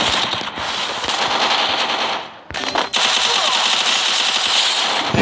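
Rapid automatic gunfire in a Free Fire Clash Squad match, loud and sustained, with bursts running almost continuously apart from a brief pause midway.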